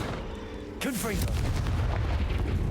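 The Confringo fire spell is cast in Hogwarts Legacy, giving a sudden booming blast with a swooping whistle and then a sustained crackling roar, loud and close, with a voice underneath.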